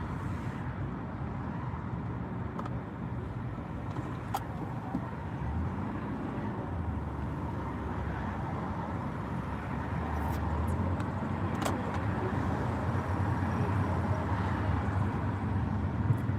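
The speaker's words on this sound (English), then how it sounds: "I'm stuck in a little bit of traffic now trying to drive to work" Car traffic on a highway heard from inside a vehicle near Washington DC, a steady low road rumble and wind hum, moderately quiet, continuous throughout with no talk.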